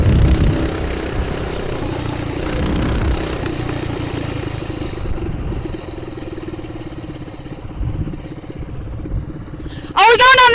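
Coleman BT200X mini bike engine running while riding, a steady close buzzing drone that drops slightly toward the end, with people talking over it.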